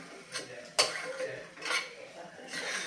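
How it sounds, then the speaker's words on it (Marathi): A spoon stirs puran, a thick lentil and jaggery filling, in a heavy-bottomed pan with repeated close scraping strokes and one sharp metallic clink, under a faint hum, with no talking. "तर हे मी सतत हलवत किंवा ढवळत हे पुरण शिजवून घेत आहे"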